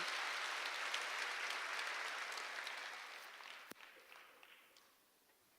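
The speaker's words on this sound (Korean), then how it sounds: "박수 좀 세게 치세요" A church congregation applauds in a full, dense burst of clapping that fades gradually over the last seconds, with a single sharp knock partway through and the room nearly quiet by the end.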